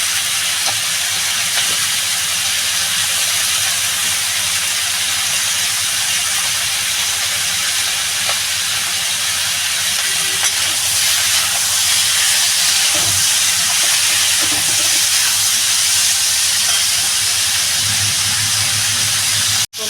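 Tilapia fish curry with cauliflower and beans fries in a pan, a loud steady sizzling hiss that continues evenly throughout.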